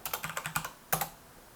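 Quick, close keystrokes on a computer keyboard, a rhythmic burst of about eight clicky taps, a brief pause, then two more sharp keypresses, with no talking.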